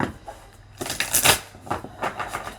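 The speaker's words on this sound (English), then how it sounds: "Sorry if that was loud, that shuffle." Playing cards are shuffled in a few quick riffling bursts, close and crisp, separated by brief pauses.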